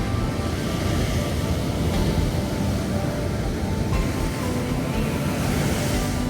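Continuous heavy roar of surf with no clear gaps, like large waves breaking and churning close by, loud and steady throughout.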